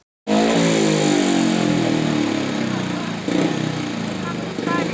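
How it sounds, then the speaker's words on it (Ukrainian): Speedway motorcycles rev loudly before a race, bursting in after a brief silence. The buzzing engine roar holds steady, with fresh throttle swells near the end. "Спортсмени перевіряють мотоцикли, готуються виїхати на доріжку"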